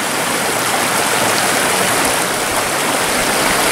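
A mountain creek with greenback cutthroat trout water rushes steadily above Colorado Springs, a loud, continuous close-up wash of flowing water with no voices over it.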